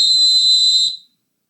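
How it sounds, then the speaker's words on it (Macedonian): A sports whistle gives one steady, shrill, piercing blast of about a second, loud and alone, then stops abruptly. "тоа е звукот на свирчето"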